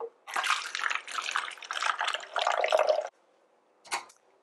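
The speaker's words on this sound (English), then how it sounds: "Start by filling your container with a couple inches of water." Water poured into a clear container, a couple of inches deep, in several close splashing bursts for about three seconds, then a brief final splash after a pause.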